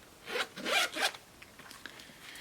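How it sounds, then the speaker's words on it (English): A small tassel zipper on a makeup palette case is pulled open in a couple of quick rasping strokes, close up and brief. "It's super fun with a little tassel that serves as a zipper."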